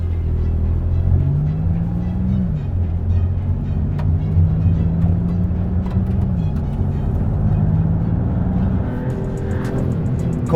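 A Maserati MC20 GT2 Stradale sports car driving on track, its engine note rising and falling through several gear changes as a loud steady drone, with no talk.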